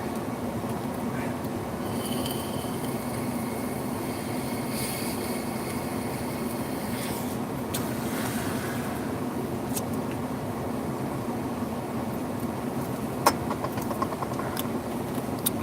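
Steady road rumble and engine drone inside a moving car, a constant low broadband roar with occasional faint clicks and rattles, heard from the cabin with no voices.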